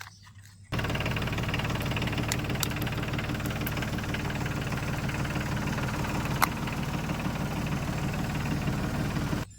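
A mini tractor engine kicks in after a short pause and runs steadily nearby, a loud, even mechanical rumble that holds until it cuts off at the very end.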